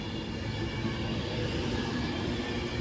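Avanti West Coast Pendolino 390020, an unrefurbished unit, pulls out of Stoke-on-Trent on a late-running Euston to Manchester Piccadilly service, a steady, close rumbling roar of rolling stock holding level throughout.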